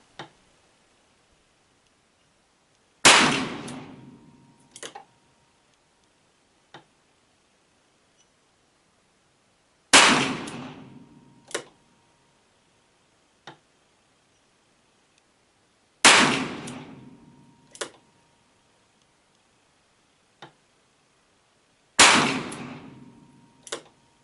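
.38 wadcutter rounds fired from a handgun clamped in a Ransom rest, four sharp, loud reports spaced several seconds apart, each with a short decaying ring and a small click after, otherwise quiet.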